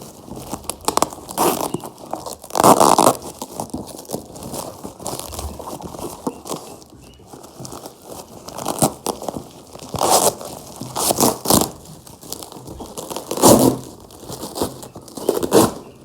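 Paper or plastic packaging of a shipped carnivorous plant being torn and crinkled in several bursts, close up, with rustling between the louder rips and no talking.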